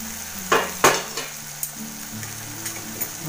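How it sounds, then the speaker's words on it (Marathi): Vegetable masala sautéing in oil in a pan, with a steady sizzle under two sharp stirring scrapes near the start, then a few lighter clinks of the spoon against the pan. "चांगलं तेल सुटेपर्यंत त्याला परतून घेऊया आपण."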